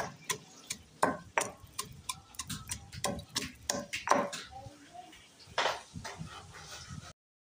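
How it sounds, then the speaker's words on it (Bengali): Sharp, irregular pounding knocks, about a dozen in quick succession, like a pestle crushing ginger and garlic, with a few lighter taps between. "এদিকে আমি আদা রসুনটা ভালো করে থেতো করে নিচ্ছি।"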